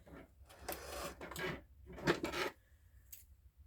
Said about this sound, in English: Got my jumbo scissors here.